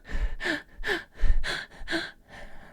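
A voice imitating a crying inhalation, five short, sharp, breathy gasps in a row, each a quick shuddering intake, close and clear with pauses between.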